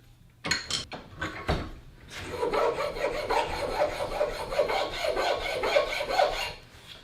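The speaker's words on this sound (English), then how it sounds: "use a common wood rasp or foreign hand file to smooth up" A wood rasp or hand file smoothing the rough edges of homemade wooden vise jaws clamped in a bench vise: a few sharp knocks, then continuous rhythmic rasping strokes, close and fairly loud, with no talk.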